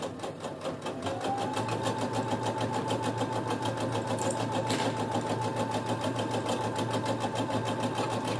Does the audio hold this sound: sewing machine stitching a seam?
yes